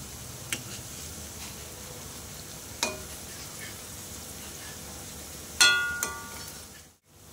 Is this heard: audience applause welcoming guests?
no